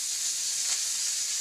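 Oil sizzling in a hot frying pan while preparing to fry onion and green chili, a steady bright hiss with a faint crackle, close and continuous.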